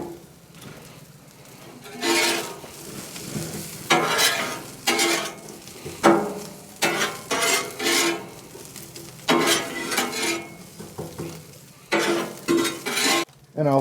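Already-cooked pork warming on a Blackstone griddle set low for tacos, sizzling steadily while a spatula scrapes and stirs in repeated bursts of clatter, close and fairly loud, with no talking.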